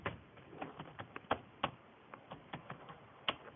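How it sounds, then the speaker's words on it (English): Quick, uneven keystrokes on a computer keyboard, a dozen or so light clicks spread over a few seconds with a couple of sharper taps, close and fairly quiet with no talking. "and I'm gonna type"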